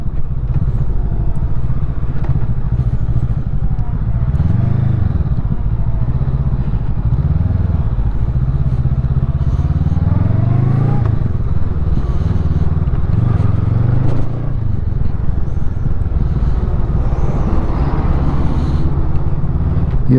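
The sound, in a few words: Honda CMX500 Rebel motorcycle riding through traffic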